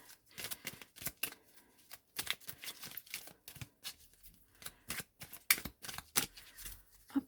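A deck of oracle cards being shuffled by hand in a quiet room, a series of soft, rapid riffling and flicking bursts separated by brief pauses, close and fairly faint, with no talking.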